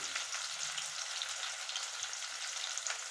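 Curry leaves and tomato sizzle steadily in a hot oil frying pan, a continuous close crackle with faint pops and no talking.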